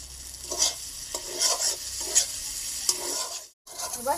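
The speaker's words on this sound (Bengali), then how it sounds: "এবার ভেজে রাখা আলু পটল এর মধ্যে দিয়ে দেব।" Fried potatoes and pointed gourd tumbled into a pan of cooked-down spices for a vegetarian potato, pointed gourd and paneer curry, with repeated scraping stirs over a soft sizzle, close and steady, briefly dropping to silence near the end.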